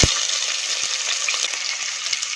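Two medium-sized sliced onions hit hot oil in a pan with cashews, giving a bright, steady sizzle and crackle up close that runs throughout, with a couple of light clinks at the start.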